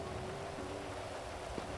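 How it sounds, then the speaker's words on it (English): Heavy rain falls in a GTA roleplay game scene, a faint, steady hiss of downpour with no talking. "it is raining pretty hard"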